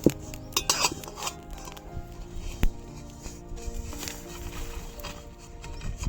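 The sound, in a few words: taking roasted spices off the pan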